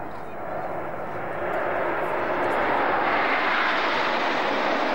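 Jet aircraft at the Duxford air show in 2004, the Red Arrows formation in Gripen shape trailing smoke, roar past as one broad, steady engine roar that builds slightly and holds loud throughout.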